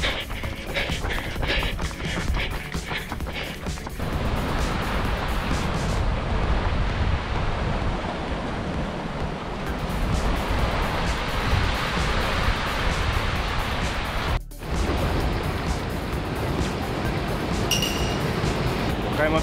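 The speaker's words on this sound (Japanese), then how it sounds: "和歌山県から見た太平洋です。" Pacific Ocean surf seen from the Wakayama coast during typhoon-driven higher waves makes a constant broad wash of breaking water mixed with wind buffeting the microphone, loud and steady with a brief dropout near the end.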